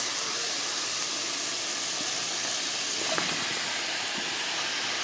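Chopped peppers and onions sizzle steadily in a hot skillet, a broad, even hiss with no voices, loud and close from start to finish.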